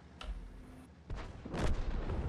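Several heavy booming gunshots, one after another, from a tank gun in the video game World of Tanks amid battle noise, the final blasts loudest and rumbling.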